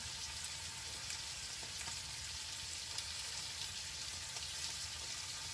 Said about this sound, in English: Put some bacon in there with it.